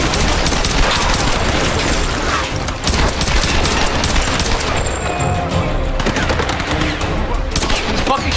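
Dense, continuous automatic gunfire and explosions from the Tomb Raider 2013 video game. The shots are loud and close, with rapid bursts overlapping a constant roar of combat noise and no pauses.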